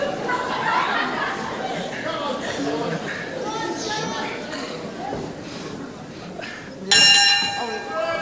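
Wrestling round bell rings out sharply near the end, loud and bright after a stretch of a commentator's talk over a murmuring crowd.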